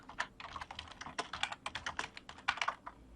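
Quick, uneven typing on a computer keyboard while building a form, a run of crisp close key clicks with no talk.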